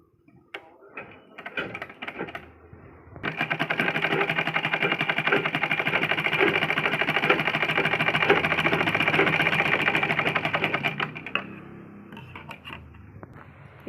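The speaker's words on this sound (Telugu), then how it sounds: "ఇప్పుడు ఇది మనం స్టిచ్ చేసుకుందాము." A sewing machine stitches a blouse latkan, starting with a few short bursts and then running in a steady, close mechanical rattle for about eight seconds before slowing to a stop.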